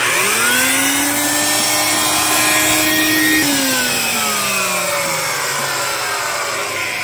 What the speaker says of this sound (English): I like to take the old shop vac, stick it in somewhere in a hose or something